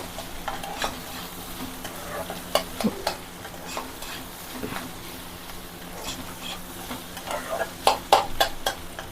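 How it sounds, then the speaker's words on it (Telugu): Beetroot fry being stirred in a pan on the stove, with repeated scraping and clinking strokes of a spoon over a continuous gentle sizzle, growing busier toward the end, close and alone without talk. "సో ఇగోండి వేసుకున్నాక ఒకసారి బాగా కలుపుకుందాం."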